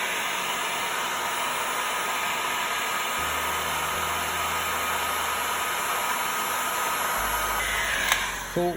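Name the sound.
heat gun shrinking heat shrink tubing on a crimped connector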